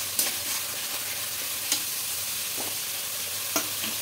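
Chopped capsicum fries in spiced oil for a vegetarian potato and soybean dish, a steady sizzle broken by a few sharp scraping stirs of the spatula.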